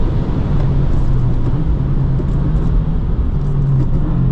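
A 2025 Subaru WRX tS drives hard on a race track at Road America, its engine a loud, steady droning rumble heard from inside the cabin with no talk.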